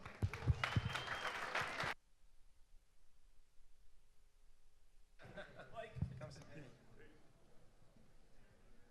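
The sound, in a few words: audience applause at conference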